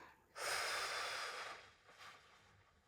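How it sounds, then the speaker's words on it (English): One slow, deep breath is drawn in audibly and released in a soft, airy exhale. The breathing is close and quiet in a calm setting, with no talking over it. "just take a deep breath. So breathing in. And exhale."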